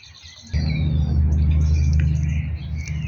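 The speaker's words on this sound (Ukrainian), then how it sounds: "там є дуже співають пташечки, хочу засняти, щоб почули" Birds chirp and twitter in short, scattered calls beside a small stream, while a heavy low rumble of running water or handling noise sits close underneath.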